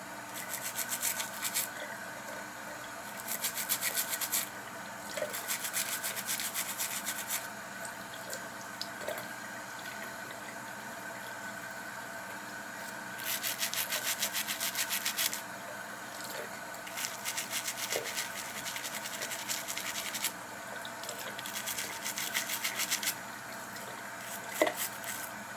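Bristle brush scrubbing leftover glue off dentures, likely at a running sink, in bursts of rapid scratchy rubbing separated by quieter stretches of water and handling, close and fairly soft with no talk.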